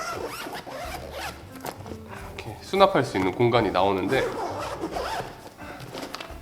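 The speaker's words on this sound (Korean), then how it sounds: "앞쪽에 지퍼를 열면 추가로 이렇게" A zipper is pulled open on the front pocket of a PGYTECH roller camera backpack, a rasping run of zip teeth close to the mic, heard over someone speaking Korean.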